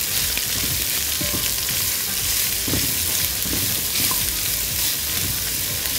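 Carrots and other vegetables fry loudly with bacon in a pan, a constant close sizzle broken by stirring scrapes and small crackles.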